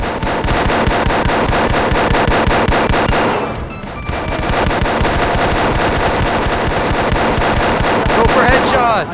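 Dense, continuous automatic gunfire in the video game Rec Room, rapid bursts filling the whole stretch with a brief lull midway, loud and close, with excited shouting mixed in.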